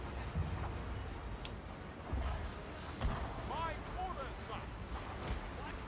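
Artillery firing in Total War: Fall of the Samurai, a few muffled booms at irregular intervals under a constant battle din, with other noises scattered through the mix.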